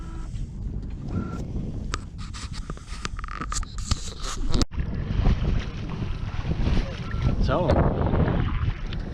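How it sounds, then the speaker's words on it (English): Wind rushes and buffets around a sailboat under way at sea, a loud gusty roar mixed with water wash and rigging rattles, while someone speaks briefly. "the wind have picked up a little bit, and that's good"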